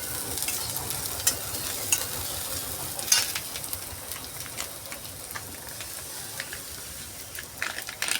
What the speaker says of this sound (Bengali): সুজিটা এখন একটু ভালো করে ভেজে নেব